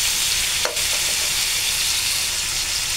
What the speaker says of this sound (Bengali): এটা ভালো মতো একটু ভেজে নিব